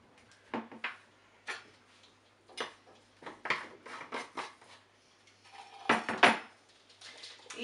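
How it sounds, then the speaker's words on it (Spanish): A fork beats mug cake batter of flour and egg in a cup, giving a series of quick, close scraping clinks that come in short bursts with pauses in between. There is no talking over it. "Y seguimos batiendo"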